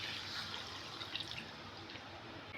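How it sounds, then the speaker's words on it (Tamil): Coconut milk pours steadily into a pot of Tamil-style crab gravy (nandu masala), a soft, continuous liquid trickle heard up close with no voices. "இப்போ தேங்காய் பால் ஊற்றிக்கலாம்."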